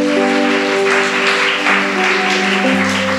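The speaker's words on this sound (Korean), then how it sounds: "우리 축하의 박수 할까요?" A church congregation claps together in steady applause during a worship service, with sustained music tones held underneath throughout.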